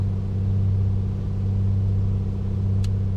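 A Piper Comanche piston engine in Microsoft Flight Simulator 2020 holds a steady run-up at 2000 RPM, a loud, even droning hum with no change in pitch throughout.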